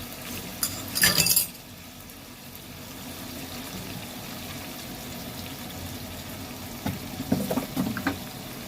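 Hot water poured into a cooked-down spice paste for a katla fish curry, with a brief clinking and splashing burst near the start and another spell of liquid and utensil sounds toward the end, quiet stretches between.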